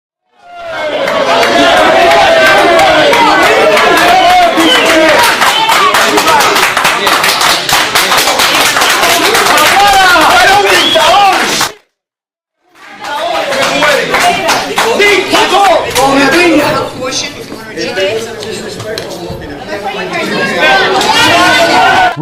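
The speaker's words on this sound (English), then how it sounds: "when the crowd continued to loudly voice their displeasure" A large indoor crowd at a town meeting with a mayor shouts, jeers and claps in a loud continuous uproar of displeasure, briefly cutting out before the rowdy clamor resumes.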